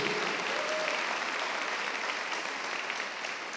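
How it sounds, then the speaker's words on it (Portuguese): Applause from a church congregation during a Portuguese-language sermon, a full, even spread of clapping that holds for a few seconds and tapers slightly near the end. "Aplauda Jesus por sua palavra."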